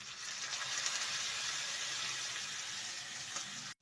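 Cumin, coriander and chilli paste mixed with water pours into hot oil for a Bengali niramish ghugni, bringing a bright, continuous close sizzle that holds evenly, then cuts off abruptly, with no speech.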